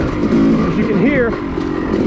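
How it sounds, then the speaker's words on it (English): A dirt bike engine lugs at low revs on a trail, a steady close drone with a brief upward pitch swing midway, heard under someone talking. "I'm lugging the heck out of the bike"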